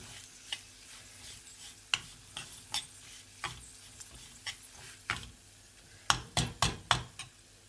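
Semolina (suji) roasts in a pan over reduced heat while a spoon stirs it with soft scraping strokes. A faint sizzle runs underneath, and near the end a quick run of louder scrapes and taps against the pan.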